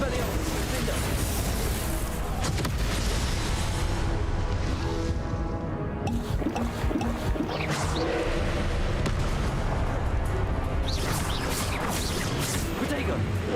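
Repeated blasting-spell explosions from the Hogwarts Legacy video game during a combat trial, with loud booms and whooshes piling up over busy battle noise while a voice calls out spells throughout.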